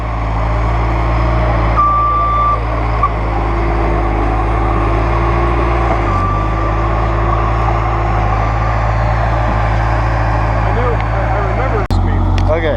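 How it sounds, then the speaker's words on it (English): A Bobcat skid steer digs at a Revolutionary War campsite, its steady engine drone loud and close throughout, with a faint reversing beep sounding briefly under a voice. "we brought the Bobcat in here"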